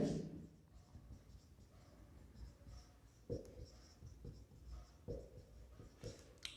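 Chalk or marker writing on a board during a science lesson, a faint series of scratchy, irregular strokes with soft taps, quiet and close.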